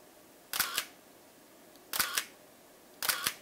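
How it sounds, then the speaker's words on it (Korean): A Canon EOS-1 film SLR fires its shutter three times, each a crisp double-clack of mirror and curtain, close and loud, spaced over a quiet background. "이 셔터 소리 잘 들어보세요."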